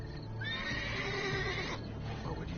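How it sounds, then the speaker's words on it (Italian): A horse in The Witcher 3: Blood and Wine whinnies loudly in one long descending neigh close by, followed by faint hoof shuffling. "Dove sta il cavallo?"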